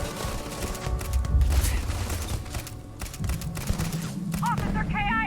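Rapid gunfire in the video game Starfield, bursts of automatic shots and sharp cracks layered over rumbling booms, loud and close throughout, with a voice shouting briefly among the firing.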